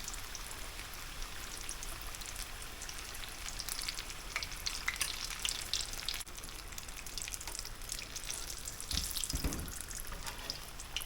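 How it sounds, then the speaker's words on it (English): Bean and brisket burritos with cheese frying in hot grease, a loud continuous crackling sizzle close by with bursts of spattering, no voices. "once you get that flap fried to where you can turn it over"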